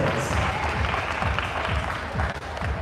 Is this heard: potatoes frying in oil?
no